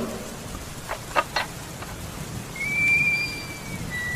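Rain falls steadily with a faint rumble of thunder, a soft patter under a few louder bursts, and a thin whistling tone drifts in near the end. No one speaks.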